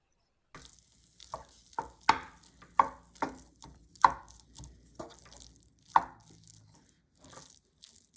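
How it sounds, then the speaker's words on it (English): A spatula knocks and scrapes in a pan as rice is mixed for Japanese omelette rice with the heat off, in a series of distinct close taps and stirring strokes. "Turn off the heat, add rice and mix."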